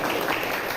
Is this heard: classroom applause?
yes